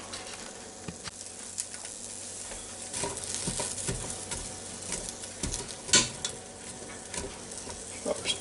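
Food frying in olive oil in a Ninja Foodi is stirred, giving a constant crackling sizzle with scattered scraping and clinking utensil strokes, close and moderately loud, with no talk.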